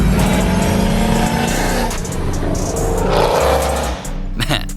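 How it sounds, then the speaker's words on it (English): A supercharged Jeep Trackhawk engine revs loudly and close, a continuous roaring burst that swells and dips, with a voice talking over part of it. "and of course a supercharged engine so it can sound like this"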